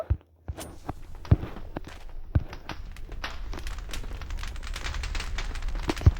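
Crackling, popping fire in a modded video game with TNT, sharp snaps over a steady rushing bed, plus a few louder thumps scattered throughout.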